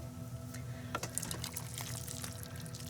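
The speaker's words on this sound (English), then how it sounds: "Let me stir it up some." Dinner being stirred in a Ninja Foodi pressure cooker after pressure release: soft wet sloshing and scraping of a spoon through the liquid food, faint and close over a low steady hum.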